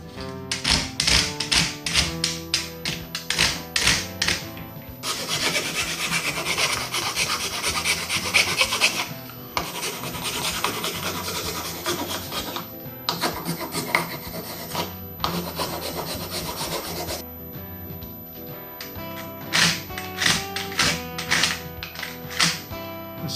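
Surform rasp filing a heated grip for a Honda CB500X, harsh scraping strokes in bursts, some long continuous runs and some rapid repeated passes with short pauses, close and loud, with no talk.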